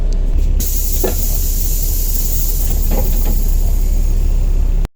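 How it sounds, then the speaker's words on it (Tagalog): Steam hisses from a leaking, brittle hose on a vehicle in a steady, loud, unbroken rush close by, with a few faint clicks underneath, before cutting off abruptly at the end. "kaya laging sumisingaw pumuputok yung hose kasi malutong"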